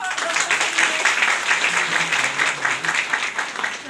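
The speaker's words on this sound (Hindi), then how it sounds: "मिल गया, चलो ताली बजाओ।" A group of people applauds together in a dense, steady wash of clapping that holds at an even level throughout, with faint voices mixed underneath.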